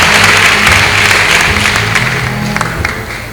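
A congregation at a night healing service claps loudly and steadily, the dense applause slowly easing off, with sustained low instrumental notes beneath it.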